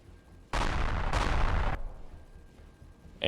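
Ship turrets open fire in the space game Empyrion Reforged Eden 2 during an assault on a Zirax orbital outpost, a loud sustained burst of rapid gunfire that lasts about a second, then a second burst, then fades.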